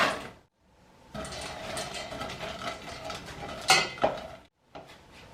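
Butter melting with currants in a saucepan: a spoon scrapes and clinks against the metal pan in bursts, close and fairly quiet, separated by short silent pauses.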